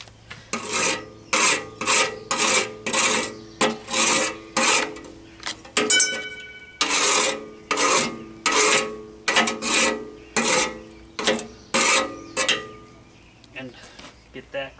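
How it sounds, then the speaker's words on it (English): A gasket scraper rasps across a part from a walk-behind Roper Giant tiller, about a dozen rhythmic close scraping strokes with short pauses between them, loud and dry, with faint clinks of metal. "Take the gasket scraper."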